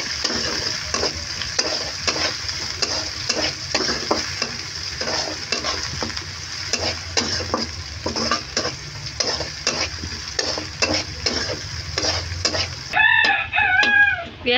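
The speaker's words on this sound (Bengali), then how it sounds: "পেঁয়াজ মরিচ ভাজা হয়ে গেছে" Onion and green chili fry briskly in oil in a wok, a close, dense sizzle with scraping stirs, before spices go in for a potato and chana dal dish. A rooster crows loudly near the end.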